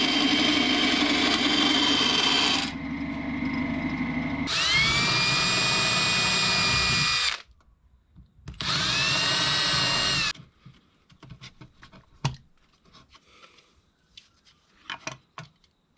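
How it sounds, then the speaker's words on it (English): A power drill whirs loudly in three long bursts, changing pitch as it bites, then stops, followed by scattered clicks and handling noises. "we'll drill some holes in Pickle Rick"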